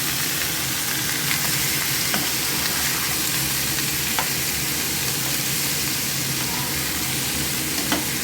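Drained potato and papaya pieces fry in hot oil for a potato-papaya curry (dalna), giving a steady, dense, close-up sizzle with light stirring scrapes throughout.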